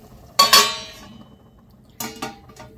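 Two clanging metal strikes as a lid is set on a pan of sweet wheat-flour sheera, a sharp double clank followed about a second and a half later by another pair of softer clinks, close and clear.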